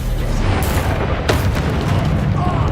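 Incendio fire spell cast in Hogwarts Legacy: a dense, sustained roaring blast with booming low rumble, a sharp crack partway through, loud and close throughout.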